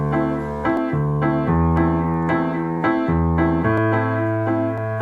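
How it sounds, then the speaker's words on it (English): The main piano line from a remake of a song plays alone: a clear, close sequence of repeated chords with moving bass notes, steady rhythm and no voices. "So here's the main piano line that you recognize from the song."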